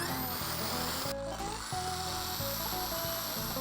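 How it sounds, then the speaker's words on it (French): A power drill bores drainage holes into a balcony planter box, with repeated grinding bursts and motor whine pulsing in short cycles, close and steady, with no voices. "je vous laisse gérer la partie perceuse"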